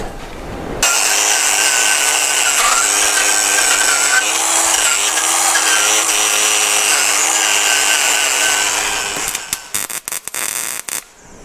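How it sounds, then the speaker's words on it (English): A wire wheel grinds steadily against a square-body truck frame, a loud, close, continuous high whir and scrape lasting several seconds before the tool spins down with sputtering rattles. "I'm gonna hit it with the wire wheel real quick."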